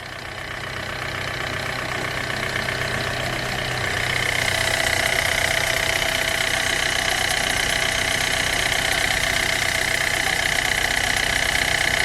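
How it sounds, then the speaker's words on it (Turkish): A Hyundai Getz engine idles steadily in a workshop after an oil change, a continuous mid-pitched hum with a faint ticking knock that grows slightly louder after the first few seconds and holds, with no talk over it. "Araç gayet güzel çalışıyor."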